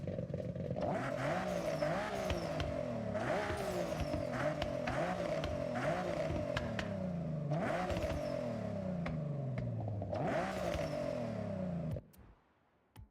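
Tuned Nissan GT-R in a racing video game, engine revving hard and continuous with repeated rising gear-shift sweeps for about twelve seconds, then cutting off abruptly.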